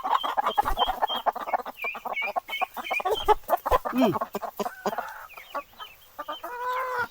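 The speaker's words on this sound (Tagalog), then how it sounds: "Natakot yung mga manok." Frightened chickens cluck and squawk in agitated bursts, several birds close by, with sharp high cries scattered through the clip and a brief voice near the start.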